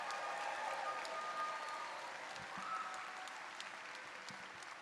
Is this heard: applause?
yes